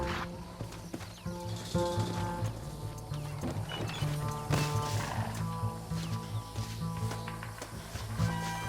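Horse hooves clip-clop and a horse whinnies in the Red Dead Redemption video game, a steady galloping rhythm under a dense bed of music and action.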